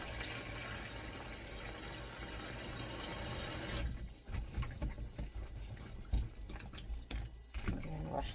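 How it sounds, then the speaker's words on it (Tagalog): Mushrooms are rinsed under a running kitchen tap, a steady loud rush of water that gives way to splashing and patter as the food is handled in the stream. "Wawash natin yung mushroom dito sa running water at the top."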